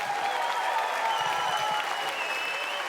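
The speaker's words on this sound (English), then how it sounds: "Can we get a round of applause, please?" A crowd claps steadily at a pro-am charity Fortnite event held at the Australian Open 2019, the dense applause sustained throughout, with a faint voice and high electronic tones underneath.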